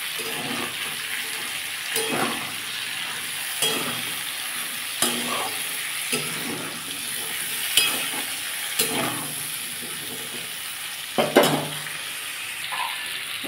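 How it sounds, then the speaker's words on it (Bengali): Potatoes fry in oil in a pan with turmeric and salt, giving a constant close sizzle broken every second or so by scraping stirs and clattering spoon knocks, with no talking. "আমি তেলের মধ্যে আলু দিয়ে দিয়েছি"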